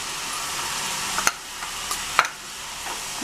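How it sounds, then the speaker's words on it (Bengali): Ground spice paste with poppy seed frying in a pan for an egg chop curry, a steady soft sizzle with a couple of sharp spoon clicks against the pan, no talking. "ভালো করে ভেজে নিচ্ছি।"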